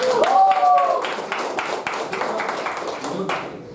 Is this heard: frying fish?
no